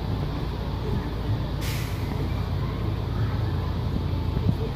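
The Timber Terror wooden roller coaster train rolls into the station at Silverwood in Athol, Idaho, with a steady broad rumble and a brief hissing burst partway through.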